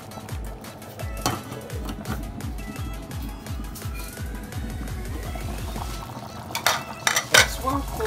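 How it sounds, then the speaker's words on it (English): A spoon stirring Rivers native soup with ofor and fresh fish in a pot, scraping in a steady repeated rhythm against the metal over a low bubbling boil, with a few louder clanks near the end. "I'll stir."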